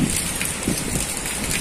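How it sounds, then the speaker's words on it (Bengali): Heavy rain pours during a violent storm, a dense steady hiss of drops on surfaces, with no talk. "অঝোর ধারায় বৃষ্টি পড়ছে।"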